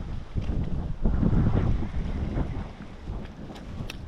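Strong, rough wind gusting over a small budget plastic boat on the water, a loud, steady low buffeting rumble close to the microphone that surges around the middle and never lets up.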